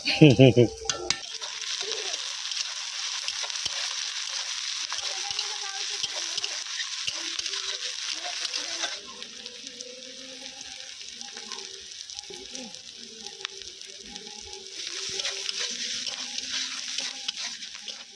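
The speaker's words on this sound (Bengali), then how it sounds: "পেঁয়াজগুলো ভাজা হয়ে গেছে" Onions frying in a pan give a steady close sizzle with occasional stirring scrapes; the sizzle drops quieter partway through, then swells again toward the end.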